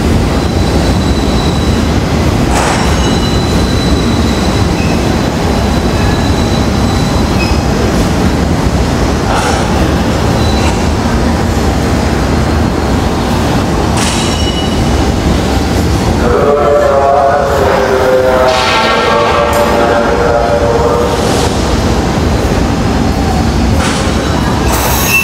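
A heavy coal freight train rumbles and rattles nearby for a long stretch at Manggarai Station, then high metallic wheel squeals ring out as it slows to a stop.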